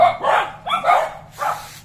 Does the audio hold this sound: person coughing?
no